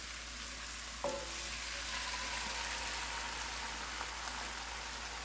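Three beaten eggs seasoned with pepper fry in olive oil in a cast iron skillet over lowered heat, a close steady crackling sizzle with one brief utensil clink early on.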